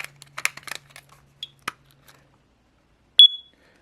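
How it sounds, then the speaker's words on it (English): A few soft clicks and handling rattles as a 9V lithium battery is fitted in a smoke detector, followed by a single short, bright electronic test beep near the end. "Just going to switch out my smoke detector battery right now."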